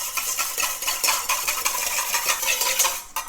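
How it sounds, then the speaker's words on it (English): Metal whisk scraping rapidly against a bowl as vinegar and Dijon mustard are beaten together, a steady close clatter of quick strokes with no talking. "I'm going to throw in my 1 part vinegar and just whisk that up"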